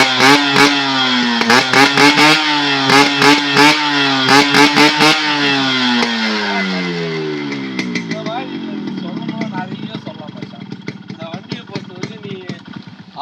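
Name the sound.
Yamaha RX100 motorcycle engine revving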